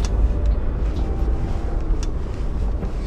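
A Lexus GX 460 driving off-road on basic trail terrain, with a steady rumble of engine and tyres and rushing wind buffeting the microphone, loud and continuous.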